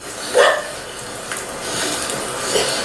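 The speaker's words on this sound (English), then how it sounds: "a white Labradoodle barks frantically, refusing to leave the scene" A white Labradoodle gives one sharp, close bark near the start, followed by quieter outdoor background noise and no clear talking.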